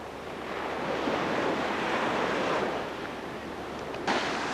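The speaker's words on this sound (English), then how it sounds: "He's wanting to make sure you see the big waves that are coming in." Big ocean waves roll in steadily on a Hawaii beach at dusk, a broad continuous roar of surf with wind rushing over the microphone.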